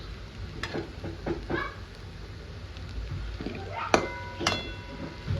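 Sabudana khichdi cooking in a pan over a low flame, a soft, steady sizzle under low background noise, broken by a few faint clinks and brief stirring sounds.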